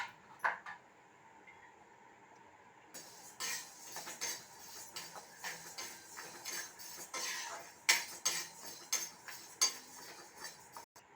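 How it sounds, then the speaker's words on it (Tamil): Moong dal being dry-roasted in a pan until golden, stirred with repeated scraping and clinking of a metal spoon against the pan, close and moderately loud, with no talking. "பொன்னிறமாக பாசி பருப்பை வறுக்கிறோம்"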